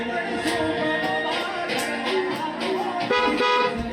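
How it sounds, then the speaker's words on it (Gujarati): A newly fitted powerful car horn honks a few times over a busy, noisy background, with voices mixed into the steady din. "ને આ હોર્ન પણ વાગી ગયું"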